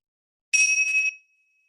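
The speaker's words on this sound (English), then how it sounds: "as soon as you hear the bell, bring yourself up to a seated position" A single bright bell chime sounds once at the end of a Pilates relaxation, clear and ringing for about half a second before a thin tone fades out in silence.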